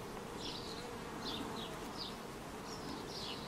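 Honeybees drone steadily at the hive entrance on a scorching +36°C apiary afternoon, with a few bees fanning at the entrance; the dense close hum runs unbroken, joined by several faint high chirps in the background.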